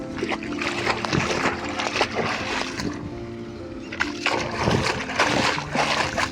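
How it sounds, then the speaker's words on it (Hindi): Water flows strongly through a rice paddy field in Pakistan, a continuous rushing, splashing gurgle heard up close and fairly loud. "अभी मैं यहाँ जो पानी बह रहा है माशाल्लाह ज़बरदस्त पानी है।"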